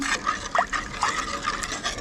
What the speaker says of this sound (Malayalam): ഇനി നമുക്ക് എത്ര ഗ്രേവിയാണോ വേണ്ടത് അതിനനുസരിച്ചിട്ടുള്ള വെള്ളം ചേർത്ത് കൊടുക്കാം.